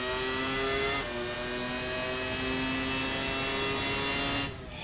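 Engine of a Williams FW19 Formula 1 car in Assetto Corsa screams at high revs, a steady sustained whine with a brief gear change dip early and a drop off at the end.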